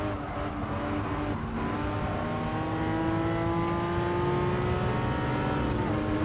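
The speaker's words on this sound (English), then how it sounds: "There's Jose Serrano on the Porsche Carrera race car." A Porsche Carrera race car engine in Gran Turismo 7 revs loudly and climbs steadily through the gears, a continuous near roar with rising tones and no talking.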